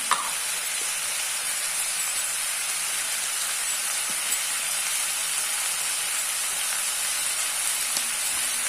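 Chicken curry mixture fries in a pan with a steady, loud sizzle and hiss, broken by faint scrapes as it is stirred, continuous and close with nobody talking.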